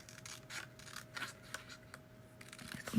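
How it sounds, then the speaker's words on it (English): Small fussy-cut scissors snip and rub through paper with soft scratchy crisp cuts, close and quiet, in a steady run of short strokes. "with my little fussy cut scissors."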